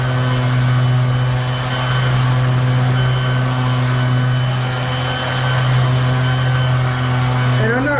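A stone polisher with a diamond pad grinds across engineered stone, a loud, continuous motor whine with a steady hum that barely changes over several seconds.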